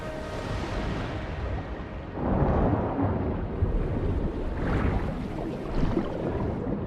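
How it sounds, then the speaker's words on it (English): Water rushing in to fill the empty middle chamber of a sluice gate in a video game, a continuous broad roar that swells in surges, with no talk. "Go activate the mechanism for the first sluice gate. That will fill the empty middle chamber with water."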